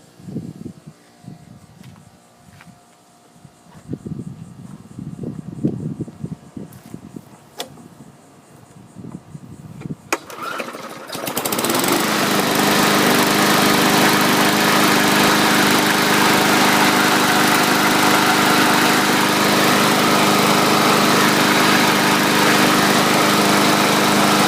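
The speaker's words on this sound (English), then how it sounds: "let's try priming this, see if it's going to run for us" A 2012 Bolens push mower engine catches after priming and pulls: quiet fumbling and rustling first, then a sharp start and a loud, steady, high-pitched small-engine drone that runs unbroken to the end.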